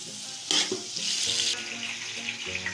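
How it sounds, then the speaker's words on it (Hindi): Garlic ginger paste sizzles and spits in a hot pan, the frying hiss jumping up sharply as it is stirred and turned. A few clinks of a utensil come through near and loud, and no one talks. "थोड़ा सा भूनूंगी लहसुन अदरक का पेस्ट ताकि कच्चापन जो है चला जाए।"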